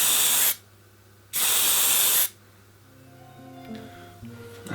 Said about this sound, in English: to get that in place I'm just going to spray paint it black